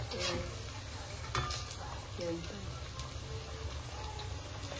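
Food roasts in a pan with a steady sizzle and frying crackle, broken up by scraping and stirring strokes nearby.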